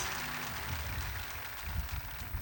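Studio audience applauding a Turkish folk singer on a televised music evening, a dense, steady roar of clapping throughout with no talk over it.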